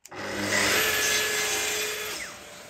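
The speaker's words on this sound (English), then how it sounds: "You need an angled but perpendicular cut for the pins," A track saw cuts through wood for dovetail pins, giving one steady whining cut for a couple of seconds before it winds down, close and alone.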